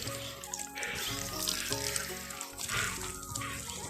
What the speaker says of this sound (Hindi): पानी की चुस्कियों का अंदाज़ उसका थोड़ा अलग ही है